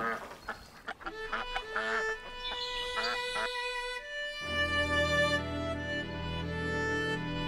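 Ducks quack repeatedly in a played-back sound set from a Soundbeam interactive music system, a busy run of honking calls followed by a sustained, tonal stretch that continues to the end.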